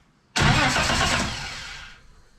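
A Holden LC GTR Torana's starter motor cranks the engine: a sudden loud, harsh whirring burst that holds steady for about a second and a half, then fades out without the engine catching.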